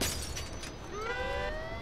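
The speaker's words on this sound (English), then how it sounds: "let's try smashing the window" A car window is smashed in the Mafia II video game, a brief glassy shatter up front, then tinkling debris and rising tonal game sounds, with no talk over it.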